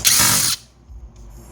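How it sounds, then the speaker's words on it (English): A power drill whirs loudly for about half a second during repair of an American Audio Encore1000 dual CD player mixer, then cuts off, leaving faint room noise. "Now I'm gonna use my drill"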